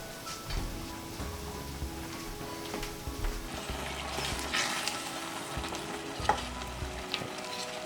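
Lentils for dal bubble on the boil in a saucepan, a quiet continuous crackling simmer with faint low humming tones and occasional small clicks.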